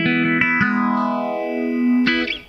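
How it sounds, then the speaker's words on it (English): Boss BR-1180CD multitrack recorder running a multi-effects patch with amp modeling: a sustained, distorted, chorused guitar chord with a few picked attacks, ringing and slowly fading before a final strum. "It's a multi-effect system that's endemic to many different Boss desktop systems with all the features you'd expect, such as amp modeling."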